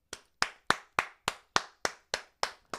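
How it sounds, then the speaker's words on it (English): A single person claps alone in a round of applause, ten crisp, evenly spaced hand claps at a steady rhythm, close and clear against near silence. "I'm going to give a round of applause to Detroit."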